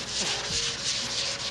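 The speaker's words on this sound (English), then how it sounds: "I'm gonna go sand. Now, this time, I am gonna use 220 grit" Wood is sanded by hand with 220 grit sandpaper, a close, brief burst of soft rhythmic scratchy rubbing strokes.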